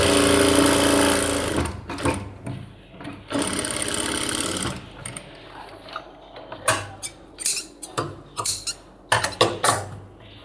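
A sewing machine stitches along the edge of a cargo half pant, first a sustained whirring run, then a series of short stop-start bursts separated by quiet pauses, close and clear.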